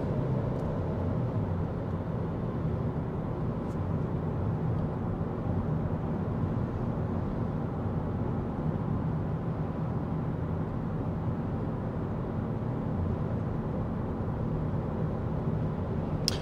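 Steady road and tire rumble fills the cabin of a 2023 Chevy Equinox RS cruising at 55 mph, an even low drone with faint wind hiss throughout and no talking.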